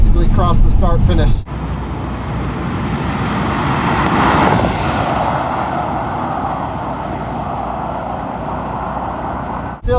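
Steady, loud roar of a Tesla Model X at about 130 mph on a race track, broad wind and road noise holding for several seconds after a brief voice at the start.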